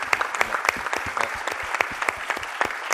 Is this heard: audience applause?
yes